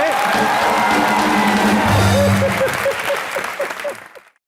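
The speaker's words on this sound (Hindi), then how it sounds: "एक बार जोरदार तालियां वीरू पाजी के लिए।" A studio audience at the Comedy Nights With Kapil comedy show bursts into loud, sustained applause with cheers and whoops, and a band plays a short musical sting underneath before everything cuts off abruptly.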